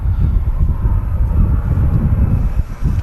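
A Jet2 Boeing 737 without winglets roars past at Manchester Airport, a loud, steady low rumble of jet engines mixed with wind buffeting on the microphone.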